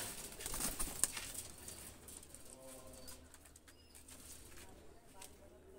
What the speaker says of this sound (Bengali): দুইটা কবুতর ছেড়ে দেখাচ্ছি দেখেন